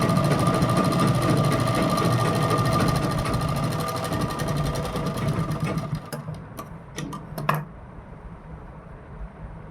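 Sewing machine stitching kurti fabric, a fast steady mechanical whirring hum running loud and close, then slowing and stopping near the end with a few clicks as the cloth is turned, no talk over it.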